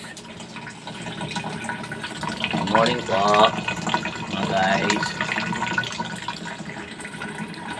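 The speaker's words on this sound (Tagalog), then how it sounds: "Iipon ako ng tubig dito sa lababo." Tap water runs into a kitchen sink in a steady splashing stream that fills the background, while someone talks over it in short bursts.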